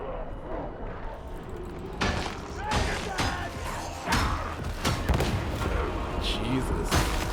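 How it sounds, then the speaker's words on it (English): Heavy blasts and thuds in the Warhammer 40K: Darktide game, several loud booming hits spaced a second or two apart over constant combat noise, with voices talking throughout. "Just a big explosion."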